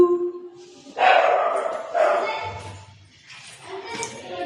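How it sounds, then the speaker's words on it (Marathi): A dog barks in short bursts near the camera, several yips and barks spaced across a few seconds outdoors near farm fields, with people's voices in the background. "डॉगी आहे ना?"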